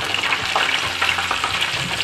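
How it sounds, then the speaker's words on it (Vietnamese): Duck pieces and taro fry in a pan of hot oil for a Malaysian-style butter duck curry, giving a steady, close crackling sizzle with scattered sharp pops and no talk. "Thì mình chiên cái này thì mình không chiên sơ mà mình chiên cho nó vàng sơ cái lớp bên ngoài ha."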